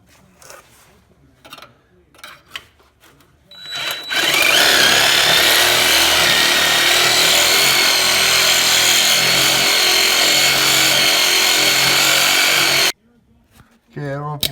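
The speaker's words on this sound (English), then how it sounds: "you can see I'm starting to cut through the bolt in there" A power saw fitted with a Diablo blade cuts through a lower control arm bolt on a Dodge Ram 4x4, a loud sustained grinding whine that runs nearly nine seconds, with brief handling noises before and after.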